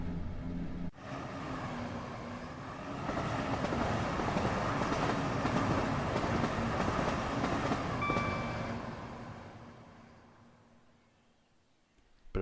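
Simulated rail track noise from Train Sim World 5 on a SouthEastern HighSpeed line: a steady rumbling roll with faint clickety-clack, swelling midway and then fading away before a sharp click at the very end.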